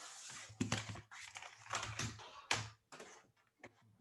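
Clicky computer keyboard typing in uneven bursts of keystrokes, fairly close and moderately loud, with short pauses between runs and no talking.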